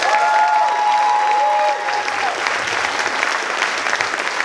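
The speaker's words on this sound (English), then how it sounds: "So let's give them another big round of applause." A large audience at a karate show applauds loudly and steadily, dense clapping with a few voices and faint tones in the hall, easing slightly partway through but carrying on.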